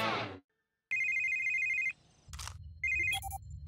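Telephone ringing in a PAW Patrol cartoon: bright electronic ringtone bursts, a long trill then shorter chirps, clear and close with brief musical effects between.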